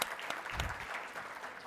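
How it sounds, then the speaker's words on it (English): A live audience applauds budding entrepreneurs at an event, a brief burst of dense, steady clapping heard on its own. "Can we have a round of applause for them"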